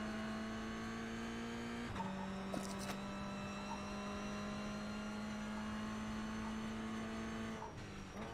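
A Porsche Cayman GT4 race car in a racing game on the Nordschleife drones steadily at high revs, with a brief pitch shift as it passes, then holds a sustained engine tone close by.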